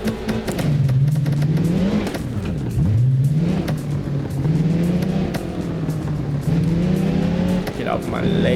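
A modded car in the driving game BeamNG revs hard and loud with a wavering engine note, its tires squealing repeatedly as the rear slides, while someone talks over it.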